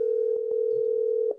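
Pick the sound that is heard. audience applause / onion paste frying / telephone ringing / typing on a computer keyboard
telephone ringing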